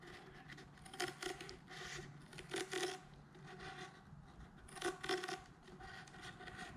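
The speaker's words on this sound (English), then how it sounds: "I took my scissors and I just kind of cut it straight." Scissors cutting through a braided cloth-and-wire hose, heard as faint, close scraping snips and rasping crunches in a few short bursts against a quiet background.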